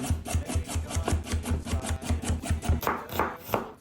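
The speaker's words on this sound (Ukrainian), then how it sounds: "Чистимо моркву, і нарізаємо її напівкільцями." A knife chopping a peeled carrot into half-rings on a board, steady quick rhythmic thunks close up, about a dozen and a half even strokes with slight scraping between.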